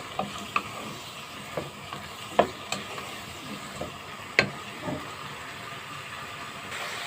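Vegetables with bell and hot peppers sautéing in a pan, a steady sizzle broken by repeated sharp clinks and scrapes of a spoon stirring against the metal, close up.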